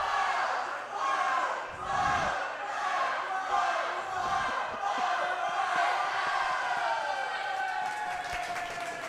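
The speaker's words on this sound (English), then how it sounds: "We have stunt cheering going on." Cheerleaders performing a stunt cheer at a girls' high school volleyball match against Londonderry, rhythmic shouted chanting from a group of voices echoing in a gym, with crowd noise and a few claps, steady and fairly loud throughout.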